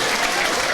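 Crowd applause at the final bell of an amateur boxing bout at a club home show, a dense, loud wash of clapping filling the whole brief moment.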